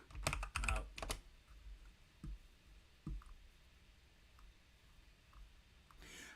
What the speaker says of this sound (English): Just type in work out.